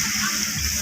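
Water pours into a pan of sautéed boiled potatoes for a rohu fish curry, a steady wash of splashing and sloshing that fills the short moment alone.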